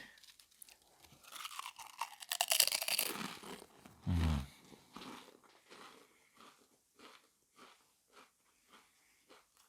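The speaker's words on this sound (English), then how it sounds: "Let's take a triple bite." Close, loud crunching as Pringles Hot Flamin' Cheese potato chips are bitten, followed by a bite and a run of rhythmic chewing with breathing.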